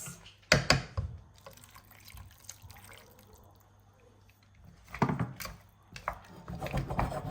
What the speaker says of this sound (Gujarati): હવે હું થોડું પાણી એડ કરીશ.